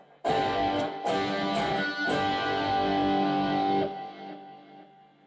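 A Rockman X100 amp's distortion channel: heavily distorted electric guitar chords ring out loud and saturated, struck a few times and then held before decaying into fuzz.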